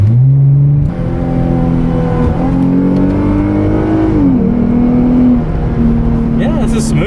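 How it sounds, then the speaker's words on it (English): A 2008 Lexus IS 350 engine hums as it accelerates, its tone climbing and holding across several throttle pulls, heard loud and close from inside the car. "Let's see how the throttle response is, because I feel like it's probably different than mine."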